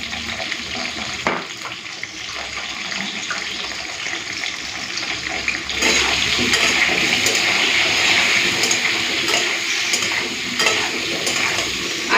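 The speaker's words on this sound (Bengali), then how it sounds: "আলু আর পটলগুলোকে একসাথে ভেজে নেবো লাল করে" Potatoes and pointed gourd fry in hot oil, giving a steady sizzle mixed with stirring and scraping that grows louder and denser partway through, with no talking.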